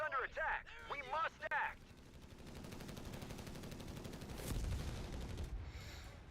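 Machine gun nest firing in a Company of Heroes 3 match, sustained rapid bursts of gunfire rolling continuously in the background after a brief voice at the start, with a heavier blast near the end.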